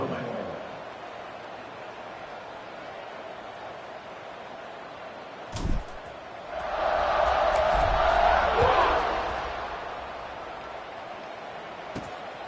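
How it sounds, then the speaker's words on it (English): A stadium crowd in a college football video game, Baylor playing a gold-clad home side, swells into a loud, sustained roar of cheering around the kickoff, rising and fading over several seconds above a steady background din. "this crowd now ready to get behind them"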